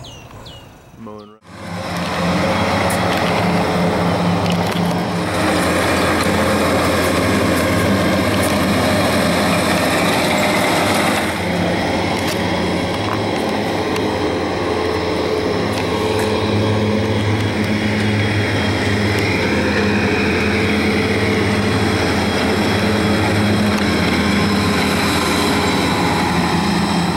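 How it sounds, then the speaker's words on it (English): Lawnmower mowing grass spread with biosolids, a loud close steady engine drone with a constant hum that holds for the whole stretch after a brief quiet start, with talking over it. "Now here comes our friend the lawnmower."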